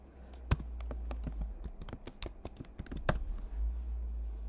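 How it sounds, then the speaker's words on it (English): Fingers type a password on a MacBook keyboard, a quick irregular run of soft, close key clicks over faint room hum. "I have to type my password."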